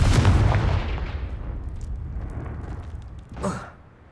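The Confringo fire spell blasts in Hogwarts Legacy as a loud, booming burst that decays over about a second into a rumbling tail. A smaller thump follows a few seconds later.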